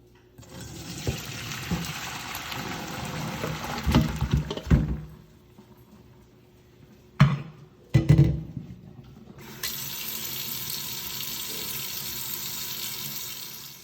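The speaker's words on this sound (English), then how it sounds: "come over to the sink and dump them into the colander and get some fresh water going" A kitchen sink tap runs fresh water while beef pho stock is prepared at a colander. The flow is steady and close, stops for a few seconds, gives two brief splashes, then resumes running.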